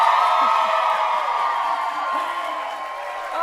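A rowdy crowd cheering at a teaching and leadership awards ceremony, a loud, continuous roar with whoops rising through it, heard close and steady throughout.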